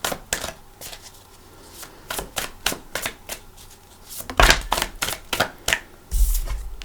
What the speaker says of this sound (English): I think I'm going to shuffle.